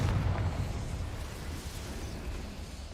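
A Confringo spell from Hogwarts Legacy sets off a deep, rumbling explosion that booms at the start and then fades into a long, low roll, with no voices.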